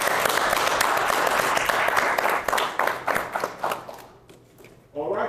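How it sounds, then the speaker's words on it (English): A round of applause fills a village board meeting room, a burst of many hands clapping that thins out into scattered claps and fades over a few seconds before a voice resumes speaking. "Can we give them a round of applause?"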